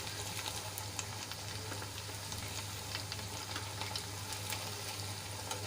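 A crispy snack of semolina and raw potato fries in a pan, giving a steady, even sizzle with faint crackles throughout, close and moderately quiet, with no voices.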